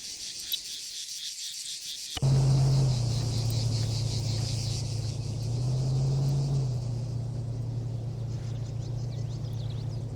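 In Arma 3, a vehicle engine suddenly starts up with a steady low rumble that holds and swells slightly, while insects chirp constantly in the background.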